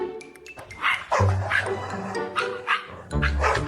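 Several small dogs yap and bark excitedly in quick, overlapping bursts, close and loud, with some whimpering mixed in.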